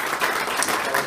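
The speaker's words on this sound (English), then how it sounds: "let's give our sponsors a round of applause" A seated audience at a health talk applauds the event sponsors, a dense burst of many hands clapping, fairly loud and close, over a brief moment.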